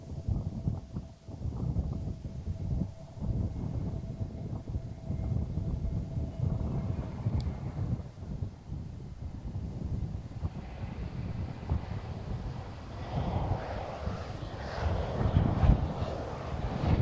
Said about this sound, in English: The wind gusts are getting a little stronger.